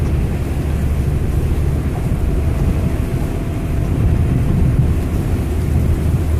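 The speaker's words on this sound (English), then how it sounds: "it's raining on my windshield" Heavy rain from Hurricane Arthur in 2014 drums steadily on a car windshield during flooding, a dense continuous wash of noise over a low rumbling road and engine drone.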